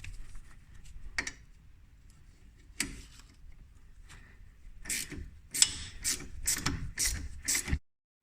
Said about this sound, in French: on va dévisser celui qui est au-dessus